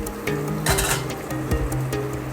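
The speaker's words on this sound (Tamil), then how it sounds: "அடுத்தது சேர்க்குறது பொடியாக கட் பண்ண வச்ச இஞ்சி" Finely chopped ginger goes into a hot pan for rava upma, giving a steady close sizzle with stirring scrapes and a few utensil clinks against the pan.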